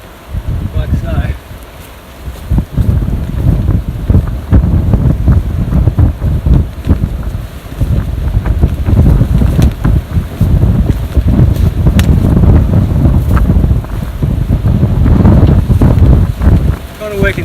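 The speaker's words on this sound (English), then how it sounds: "It is very windy." Strong gusty wind buffets a microphone at a beach during outdoor painting, loud rumbling gusts rising and falling continuously with rustling noise.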